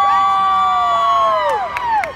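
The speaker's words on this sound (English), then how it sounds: "My lords, my ladies, raise a cheer for the brave, the bold, the indomitable Lord Denmal, the Blue Knight" A large arena crowd at a Medieval Times show cheers for the Blue Knight, a dense sustained roar with high sliding whoops and shouts, loud and enveloping.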